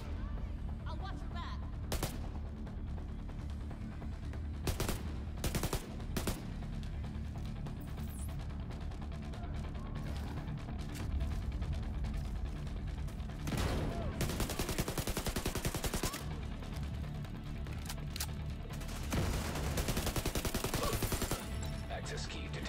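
An enemy blasts a shotgun in The Division 2, heavy booming shots landing at irregular intervals over a constant low rumble of combat, with a few denser clusters of fire in the middle.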